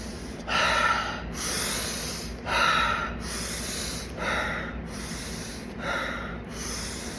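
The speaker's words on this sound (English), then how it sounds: "Take a couple of deep breaths and just breathe deep oxygen into your brain." Person taking deep breaths, a close series of about five forceful airy inhales and exhales in a steady rhythm, alone with no talking.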